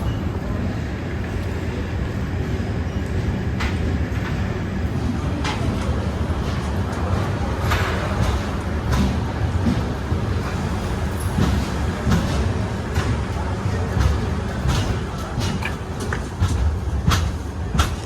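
A Prasanthi Express train running, heard from inside a second-class AC (2AC) coach: a steady low rumble with faint clicks and rattles throughout, loud and continuous, with no clear voices.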